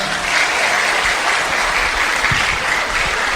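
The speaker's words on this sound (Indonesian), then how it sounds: "Kasih tepuk tangan dulu buat Farid." An audience at an Islamic charity gathering gives loud, dense, sustained applause for Farid, steady clapping with no pauses.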